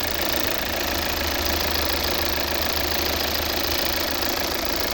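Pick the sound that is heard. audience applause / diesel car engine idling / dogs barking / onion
diesel car engine idling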